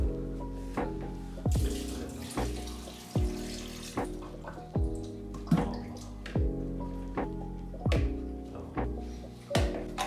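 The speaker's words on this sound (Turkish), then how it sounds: "Şimdi çileklerimize bir sudan geçirelim." Strawberries are rinsed under running water from a tap, with splashing bursts and dripping that come in uneven pulses as the fruit is handled in a sink.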